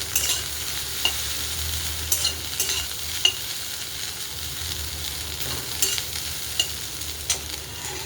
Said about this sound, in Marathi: हलवूया. भाजल्यावर भेंडी चिकट नाही होत.